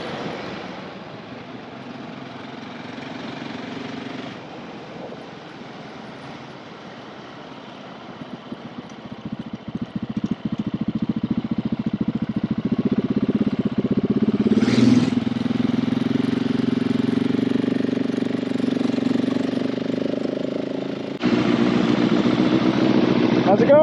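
A 2020 Husqvarna 701 Enduro LR motorcycle engine runs as a steady, continuous drone that swells louder partway through, heard close with no gaps, while people talk over it.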